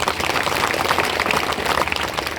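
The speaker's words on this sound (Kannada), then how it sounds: "ಜೋರಿಗೆ ಒಂದ್ಸಲ ಚಪ್ಪಾಳೆ ಹೊಡ್ರಿ." Dense, loud applause from an audience at a live Chaudaki devotional music programme, steady clapping filling the whole stretch with no talk over it.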